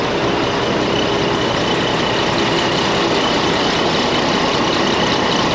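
A double-decker sleeper bus engine idles loudly and close by, a steady, dense diesel rumble that never lets up.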